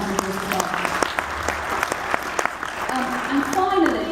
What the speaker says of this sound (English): I think we should give him a round of applause as well.